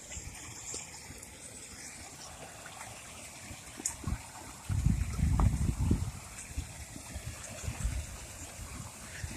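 Water flowing in a creek swollen after heavy rain beside a small pool, a soft continuous trickle and rush with a louder gush of splashing midway, faint and close with no talk.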